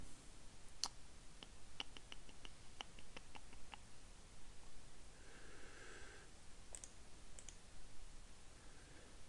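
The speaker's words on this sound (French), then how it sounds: "Clic droit." A computer mouse clicks repeatedly while someone works in SolidWorks drawing software, with sharp, close clicks in an irregular burst followed by a few more later, alone in a quiet room.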